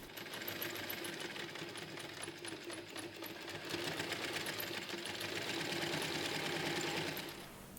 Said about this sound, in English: open each corner and sew straight across to create the box corner